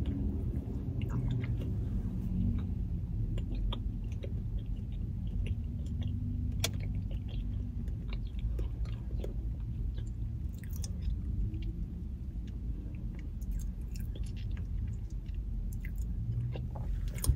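Steady close-up chewing of a Starbucks orange cream cake pop, moist cake inside an orange shell, with soft wet mastication and occasional small bites continuing throughout, no talking.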